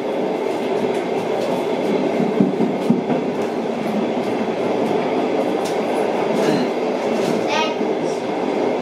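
A train rolls past on the Turku–Uusikaupunki line, a loud continuous rumble of wheels on rails with faint clickety-clack and a brief high squeal near the end; voices murmur in the background.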